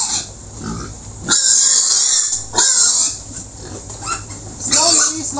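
Pigs on a farm, weighed 64 days after weaning, let out loud squealing grunts in three sharp bursts over a lower, restless background of shuffling and faint voices.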